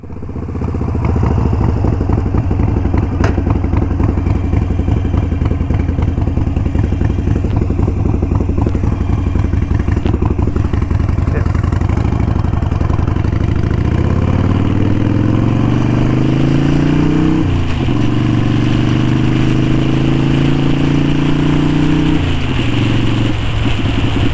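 A Harley-Davidson Sportster 883 Iron, belt-driven and air-cooled, runs loud and close with a steady lumpy V-twin rumble, then revs up and down through several swells and drops as the machine pulls away.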